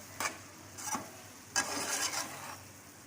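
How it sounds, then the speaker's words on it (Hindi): A spoonful of whole cumin seeds crackles in oil over a low flame, in short sizzling bursts that swell into a longer, denser spell of spitting before easing off. "अब हमने आग बिल्कुल आहिस्ता कर दी है और इसमें हमने ज़ीरा साबुत डाल दिया है 1 चम्मच"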